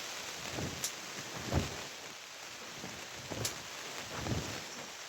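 Steady rain hiss fills the whole stretch around a greenhouse, with a few soft low thumps and drips rising briefly above the constant wash.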